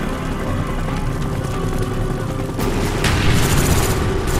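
Dense gunfire and explosions from a Call of Duty: Black Ops firefight aboard a ship deck, with continuous loud rattling shots, booms and rising intensity throughout.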